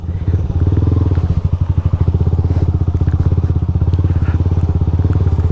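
A small motorcycle rides close by on a rough island trail, its steady engine drone carrying a rapid pulsing throb with scattered clatter and bumps throughout.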